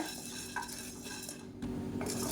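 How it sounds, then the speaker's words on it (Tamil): Chana dal dry-roasting in a pan while a metal spoon stirs it, with steady close scraping and rattling of lentils against the metal, loud and continuous with no talk. "அடுத்ததாக பருப்பு சேர்த்துக்கலாம் இதையும் நல்லா வறுத்துக்கலாம்"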